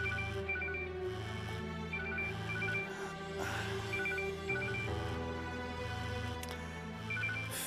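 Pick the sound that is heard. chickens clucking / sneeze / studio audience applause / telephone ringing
telephone ringing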